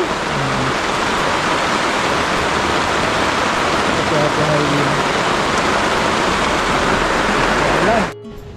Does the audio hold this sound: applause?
no